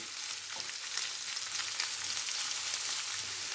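Onion and peppers fry steadily in a pan, a continuous broadband sizzle with soft scraping from stirring now and then, close and even throughout without any voices.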